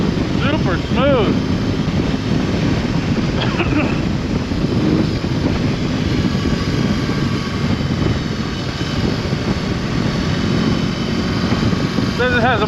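A 2022 BMW R18B motorcycle's engine drones steadily while riding, a loud low rumble mixed with heavy wind rush across the microphone, with no pauses throughout.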